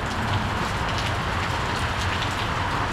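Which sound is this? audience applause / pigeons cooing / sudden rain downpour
sudden rain downpour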